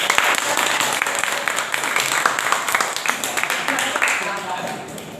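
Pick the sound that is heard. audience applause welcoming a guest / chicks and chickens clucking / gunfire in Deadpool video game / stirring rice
audience applause welcoming a guest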